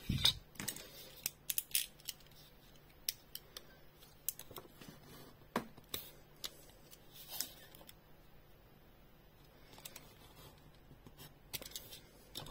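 Scissors snipping along the edges of a handmade pop-up New Year card, a series of sharp close clicks and snips in irregular bursts, alone against a quiet room.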